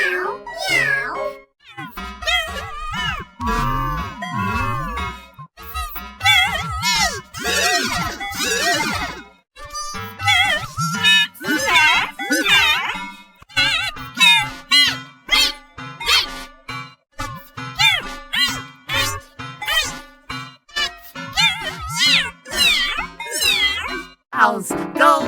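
Cats meow over and over, the calls coming close, loud and clear in uneven bursts, some drawn out and some short, with small gaps of quiet between them.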